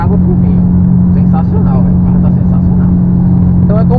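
A VW Polo with a Stage 3 engine remap drones steadily from inside the cabin, a constant low engine hum running beneath people talking throughout.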